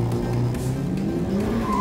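Tuned Hyundai i30 N racing hard on a track, its engine roaring loud and close as tires squeal through a corner, a continuous sustained blast with no talk.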